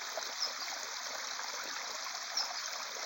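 Forest stream flowing strongly after rain, a steady even rush of water close by with no pauses, plus faint bird chirps.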